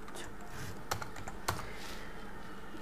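Code being typed on a computer keyboard during a class, with soft, quiet key taps and two slightly sharper clicks near the middle over a steady low hum.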